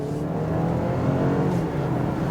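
A 2024 BMW X3 SUV, a basic non-M model, accelerates with a steady, loud engine drone and road noise that holds evenly throughout, with no talking.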